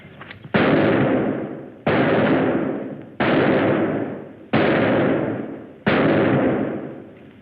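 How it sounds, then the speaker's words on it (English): Five loud gunshots at a shooting target, each a sharp close crack followed by a long decaying echo, spaced about 1.3 seconds apart, with no talking. "Good shooting, huh, Jimmy?"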